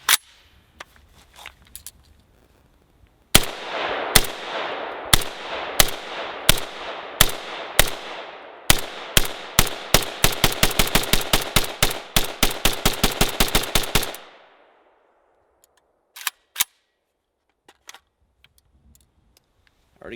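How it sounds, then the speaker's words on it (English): Shots from a Century Arms VSKA rifle ring out loud and close, starting as evenly spaced single shots and quickening into a rapid string of cracks before stopping, followed by a few scattered clicks. "these are actually the first rounds I've ever personally put through a VSKA"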